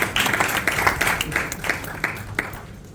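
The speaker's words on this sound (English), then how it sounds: "Clap for government and World Bank." Audience applause at a government event on entrepreneurship and SME support, given for the government and the World Bank: a steady, fairly faint wash of many hands clapping, with no one speaking over it.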